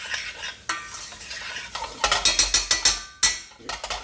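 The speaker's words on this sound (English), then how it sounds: "Still hear it sizzling." Steady sizzling of frozen peas in a frying pan with repeated scraping stirs and utensil clacks, close and fairly loud, no talking.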